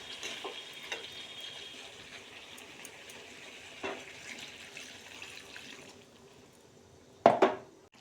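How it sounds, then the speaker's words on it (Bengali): Meat sautéing in a pot for a Bengali pulao and meat dish gives a steady, soft hiss, with faint stirring scrapes and a brief sharp clatter near the end. "ওই যে আমার মাংস সাতলানি হয়ে গেছে"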